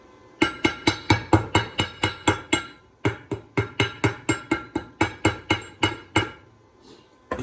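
A slag hammer chips welding slag off a steel plate in rapid, ringing metallic strikes, about two dozen close, sharp blows in two bursts separated by a brief pause.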